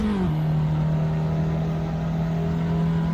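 A race car engine in Assetto Corsa holds a loud, steady high rev during a drag race. The tone dips briefly at the start, then drones on alone without a break.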